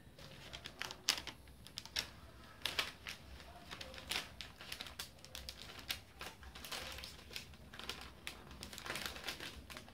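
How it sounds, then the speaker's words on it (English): Masking paper is crinkled and handled up close while a motorcycle fuel tank is masked for painting, giving dense, irregular rustles and sharp crackles that run continuously at moderate loudness with no talk. "This is probably masking paper."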